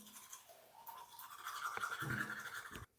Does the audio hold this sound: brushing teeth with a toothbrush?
yes